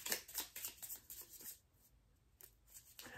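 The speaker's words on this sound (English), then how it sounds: "You know what I'm like shuffling" Small tarot cards are shuffled by hand in quick, crisp riffling bursts for about a second and a half, then a pause and a few more soft flicks, close up with no talking.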